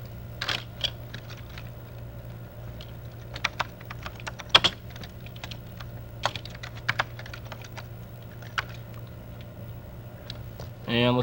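Someone types a title on a computer keyboard, sparse quick clusters of light key clicks over a low steady hum, close and quiet.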